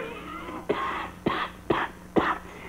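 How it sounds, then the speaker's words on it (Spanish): Four harsh, throaty coughs from a man suffering from flu, spaced about half a second apart, close and fairly loud, with no talk between them. "Y esta tos es de perro"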